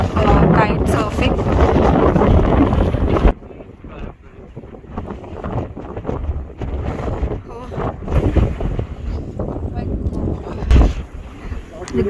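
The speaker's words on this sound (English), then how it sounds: "This is due to the strong wind." Strong wind gusts across North Bull Island in Dublin, a sandy beach with kite surfers, roaring and buffeting the microphone heavily for the first few seconds, then rumbling more unevenly while a voice speaks underneath.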